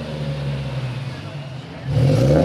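Car engine revving at an enthusiast meet during Monterey Car Week, a steady close motor hum that swells louder near the end, with crowd voices mixed in.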